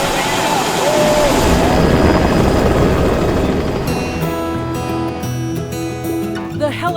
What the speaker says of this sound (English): we need to take that helicopter to get there